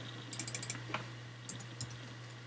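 Light typing on a computer keyboard, with a quick burst of several soft clicks, a pause, then a few more keystrokes over a low steady hum, close and faint.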